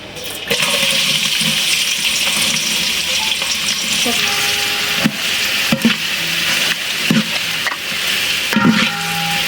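Onions go into spice paste frying in a pan with cardamom and cinnamon, giving a steady, loud hiss of sizzling oil broken by scraping and stirring clatter throughout.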